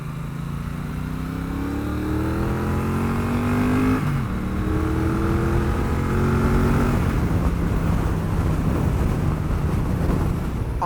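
A Triumph Bonneville Bobber 1200 twin engine drones steadily while riding in fourth gear at about 55 mph, its pitch rising and dipping with throttle changes under constant wind rush.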